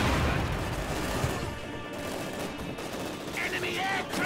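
A strafing run in a real-time strategy video game, heard as dense, continuous rapid gunfire and crashing impacts filling the whole stretch, loud and busy.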